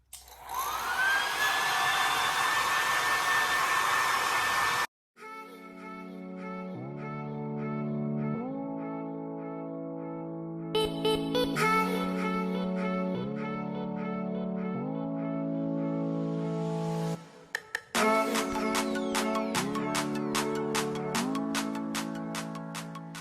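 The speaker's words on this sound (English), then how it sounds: "I'm gonna take this blow dryer and just kind of blow dry it really quick." A hair dryer whirs loudly and steadily for a few seconds, then stops, followed by a long stretch of layered electronic tones.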